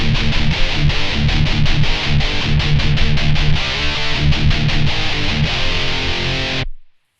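Distorted electric guitar lead played through a Blackstar ID:CORE40 modeling combo amp, a loud, dense stream of sustained notes and chords heard alone for about seven seconds before cutting off abruptly.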